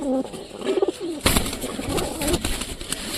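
Pigeons nesting in pairs give soft, low cooing calls, a few short rolling coos up close, followed by a sudden rustle or flutter of wings and a scatter of quieter bird sounds.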